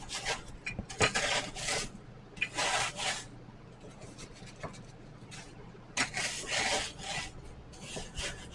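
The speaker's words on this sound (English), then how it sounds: "press this down and then get my rolling pin to finish them off" A rolling pin crushes food into a fine powder, heard as close, gritty rubbing and rasping strokes in repeated bursts with short pauses between them.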